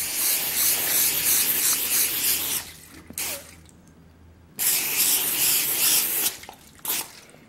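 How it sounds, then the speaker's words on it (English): Cooking spray hisses from an aerosol can onto a baking pan in two long, loud, close bursts separated by a short pause, followed by brief spritzes. "Now you need this cooking spray stuff."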